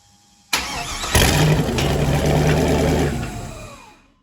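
A 1965 Chevy C10 with an LS swap cranks briefly, then fires and catches into a loud, steady idle in a garage before tailing off.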